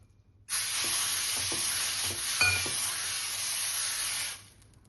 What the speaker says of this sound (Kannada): ಈಗ ಹಂಚು ಕಾದದ ದೋಸೆ ಹಾಕೊಳ್ಳೋಣ್ರಿ.